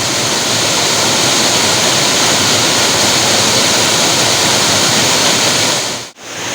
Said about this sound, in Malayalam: മൺസൂൺ സീസണിൽ മാത്രം ഉണ്ടാവുന്ന ഒരു വെള്ളച്ചാട്ടം, അതും വളരെ ചെറിയത്.